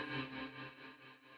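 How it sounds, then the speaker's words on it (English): A guitar note played through a Kemper Profiler on a baritone tone fades out in a sustained, effected reverb tail that is panned from left to right and decays quietly over a little more than a second. "to have this reverb tail panned from left to right"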